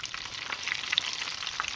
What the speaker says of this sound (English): All right, we're ready to fry.